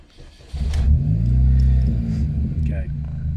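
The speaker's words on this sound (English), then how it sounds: "The first thing we need to do is to start the car." A car engine cranks and catches, then settles into a loud, steady low rumble with a slight rise in revs, close by and alone.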